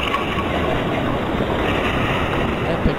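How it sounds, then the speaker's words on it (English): Whirlpool in the video game Epic Mickey, a constant loud rushing, churning water roar that fills the whole span without letting up, with no talking over it. "It's the sound of a whirlpool going off."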